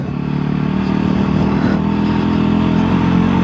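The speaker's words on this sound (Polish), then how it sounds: "jakie są wrażenia e, jazdy tym motocyklem po szutrze" A 2025 Voge 300 Rally motorcycle being ridden on gravel, a steady mid-pitched engine drone close to the rider with constant wind and road rumble, with no talk over it.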